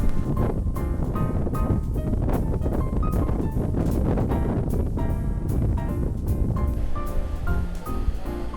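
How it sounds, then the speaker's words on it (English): Strong wind on a sandy shore in Fukuoka, Japan buffets the microphone in loud, rumbling gusts that blanket the scene continuously, with no voices present. "today it seems also very windy"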